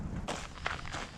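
Footsteps crunch along a trail at a steady walking pace, close by, with a few louder steps standing out.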